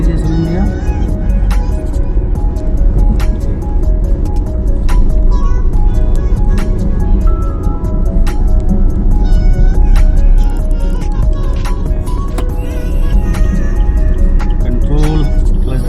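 A car, a Zest, runs in second gear during a driving lesson, its steady engine drone and cabin hum continuous throughout, with faint tonal chimes and clicks on top.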